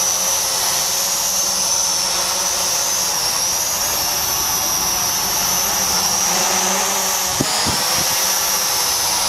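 An SG900 drone flies with its rotors spun up to the faster second speed setting, giving a steady, loud, close high-pitched whine and rush that holds for the whole stretch, with a couple of brief knocks near the end.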